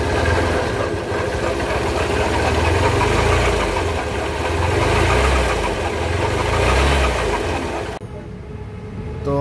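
A Hero Hunk 150cc motorcycle engine idles up close with a rough, knocking chug, holding steady for about eight seconds before it cuts to near quiet. No one speaks.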